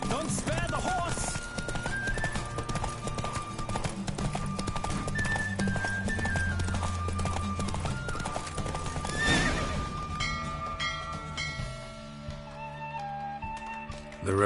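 In The Witcher 3 video game, a horse gallops steadily with rapid hoofbeats during a race, and a neigh rings out over the pounding, with a game music score playing underneath throughout.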